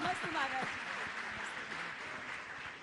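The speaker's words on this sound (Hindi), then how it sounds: "इस सूत्रात्मक उत्तर के लिए एक ताली बजा दो" Clapping from a congregation at a Jain question-and-answer discourse by a monk, a soft spread of applause heard under and just after a voice.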